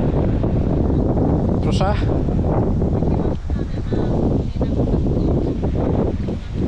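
Strong cold wind blasts across a phone microphone outdoors, a steady roaring rumble that nearly buries someone speaking Polish close by.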